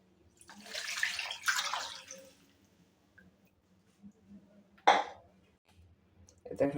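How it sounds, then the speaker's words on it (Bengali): Water is poured into a cooking pot of foxtail millet rice mixed with soybean oil, a splashing pour lasting about a second and a half, followed by faint clinks and one sharp knock, with no talking. "এখন পানি দেব পরিমাণ মতো।"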